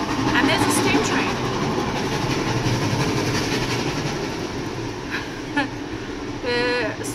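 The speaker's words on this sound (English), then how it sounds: "And there's a steam train." A steam train passes on a railway line near a home, its loud steady rumble and wheel clatter filling the scene, with a voice briefly heard and whistle-like tones toward the end.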